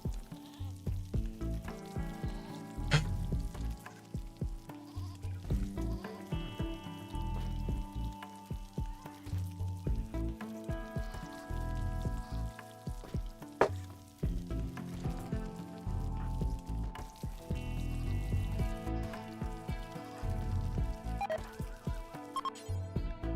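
Food sizzles over a cooking fire in the survival game Rimworld, a continuous crackling fry layered over steady game music and ambience that runs the whole stretch without pause.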